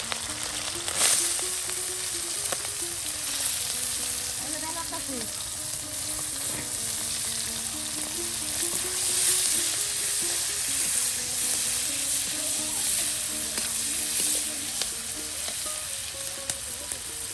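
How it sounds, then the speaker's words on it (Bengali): Chepa dried fish (shutki) fries with salt in a pan, a close, continuous sizzle with occasional stirring scrapes, while a low tonal hum runs underneath and no one speaks. "লবণ দিয়ে চাপাগুলো ভেজে নেওয়া হচ্ছে।"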